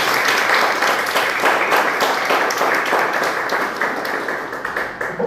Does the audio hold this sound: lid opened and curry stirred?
no